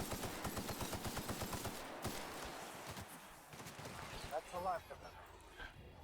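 Gunfire from The Outer Worlds video game: rapid bursts of shots in a steady rhythm for the first two seconds, then scattered softer impacts, with a person talking over it.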